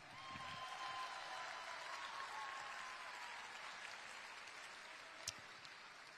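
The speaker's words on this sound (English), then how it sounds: "please give a big round of applause to the Inner Vision Orchestra" Audience applause for an orchestra at the opening ceremony of the 2023 IBSA World Games, a sustained wash of clapping from a large crowd that slowly thins toward the end.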